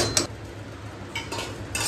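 Metal utensils clink and scrape against a metal pot a few times as roasted semolina is transferred into it, with brief quiet gaps between the clanks.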